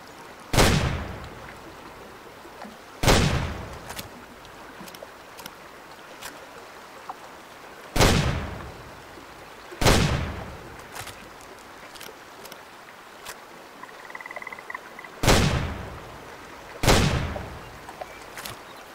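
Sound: shotgun fire while duck hunting, Way of the Hunter video game

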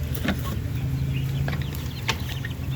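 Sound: one-month-old Darag native chickens clucking on farm

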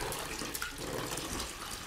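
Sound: hot water poured into a bath, radio play effect

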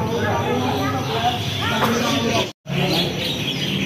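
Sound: murai (magpie-robin) birds chirping

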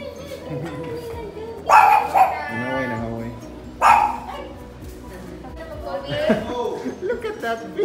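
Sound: dogs barking

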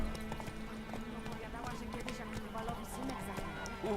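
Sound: horse galloping in a video game

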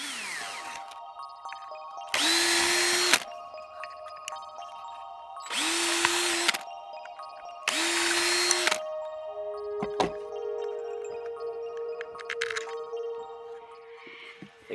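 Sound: power drill drilling 4mm holes

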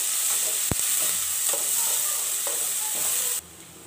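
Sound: onions frying in a pan

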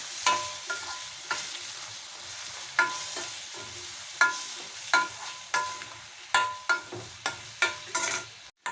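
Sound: sautéing tomatoes with salt in a pan

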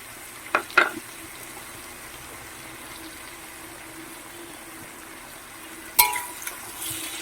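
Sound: chopped onion frying with potato and pumpkin

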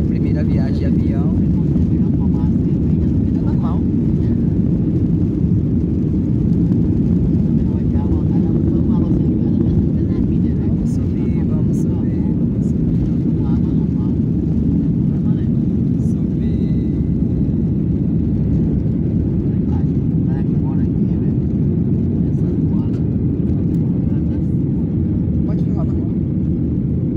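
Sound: airplane cabin noise in flight

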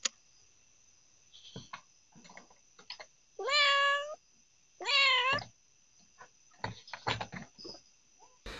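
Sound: cat meowing while high on catnip

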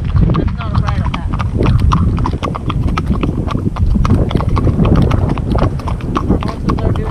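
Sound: horse hooves clip-clopping

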